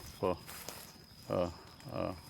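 Cattle in a rural field, giving three short, fairly faint moos in turn with gaps between them, heard at some distance against quiet outdoor background.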